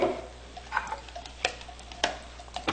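A spoon clinks and taps against a glass while a mix of black currant liqueur and wine is stirred, giving soft, irregular ticks at close range over quiet background.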